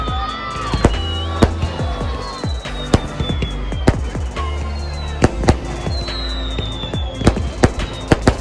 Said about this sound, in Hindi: और ये रावण के भाई के लिए पटाखे।